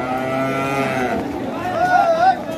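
A crossbred bull at the Ambari cattle market in Dinajpur lets out a long, loud, close moo that rises and wavers, with another bovine call sliding in toward the end.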